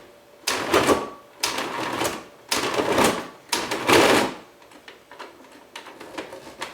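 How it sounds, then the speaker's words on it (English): A food processor pulses ground chuck in four loud, close bursts of about a second each, separated by short pauses, followed by fainter rattling. "But we want to grind it, we don't want to mince it. So we're going to pulsate."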